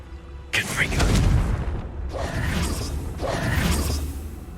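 Heavy booming bursts of the Confringo blasting spell in Hogwarts Legacy, the loud whooshing blasts arriving three times in quick succession, with a voice heard in between.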